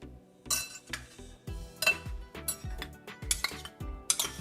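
A spoon clinks and scrapes against a bowl in uneven bursts as mutton is mixed by hand with dry spices, garlic-ginger paste and yogurt for a Hyderabadi korma marinade, close and fairly loud, with no voices.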